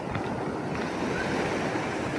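Steady wash of moving water at Teluk Ijo in Banyuwangi, where a waterfall meets a beach in mountainous terrain, a broad continuous rush with some wind buffeting, no voices.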